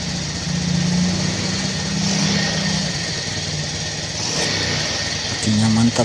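Car engine idling steadily after starting on a recharged battery, a continuous close rumble with a brief rev near the end while someone talks over it.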